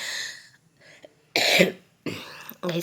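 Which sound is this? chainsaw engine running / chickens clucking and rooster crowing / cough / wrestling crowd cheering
cough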